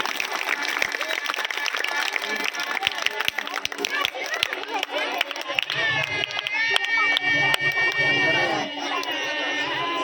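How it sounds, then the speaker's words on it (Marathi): Audience at a school annual function in a Marathi village claps during Saraswati worship. Scattered, uneven claps ring out amid crowd chatter, with a few sharp individual claps standing out and a voice speaking over part of it. "सरस्वतीचं पूजन होत आहे. कृपया जोरदार टाळ्या वाजवायचे"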